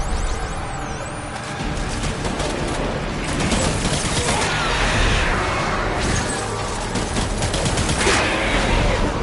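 Sustained gunfire from the video game Death Stranding, dense overlapping bursts and shots filling the whole stretch, loud and continuous with crashing impacts.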